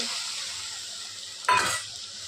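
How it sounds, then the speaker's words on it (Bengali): Grated tomato sautéing in a pan for a Bengali fish curry gives a steady, soft sizzle, broken about two-thirds through by a brief, louder burst of stirring or scraping. "এইবারে আমি এটাকে কষে নেব ভালো করে, এটাকে কষতে দেব।"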